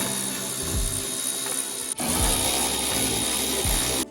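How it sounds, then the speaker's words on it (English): Rapid whirring of a power tool or ratchet spinning out bolts on a Duramax air box tray, loud and close, with a brief pause near the middle before the buzzing whine resumes. "We just have to pull these 2 bolts that hold this tray down"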